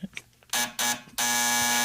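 A buzzer-like electronic tone plays over a radio broadcast: two short harsh bursts, then a loud, sustained buzz.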